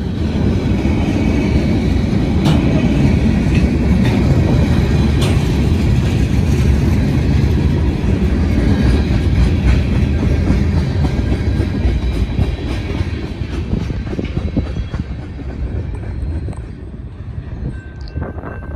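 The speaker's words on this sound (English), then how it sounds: "Not a very long train." Norfolk Southern freight train rolling past on rails near a grain elevator in Circleville, Ohio, a loud, close, continuous roar of wheels and cars with clickety-clack beats that slowly fades toward the end.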